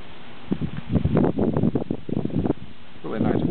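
Wind gusts outdoors buffet the microphone in uneven bursts and rustles, fairly loud and close, with no talk over it.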